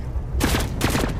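A grenade blast in the shooter video game The Cycle Frontier: two sharp, loud bursts close together, each a booming crack with a short rumbling tail, heard up close with no talk over them.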